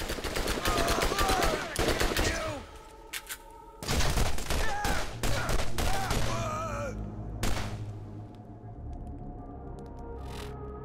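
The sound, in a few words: gunfire from a gun in the video game Borderlands 3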